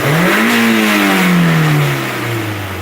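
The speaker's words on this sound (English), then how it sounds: "But if I give it wide open throttle" A Mazda MX5 engine with a rich-fuel fault revs hard at wide open throttle, its pitch climbing and holding loud and close before easing back down.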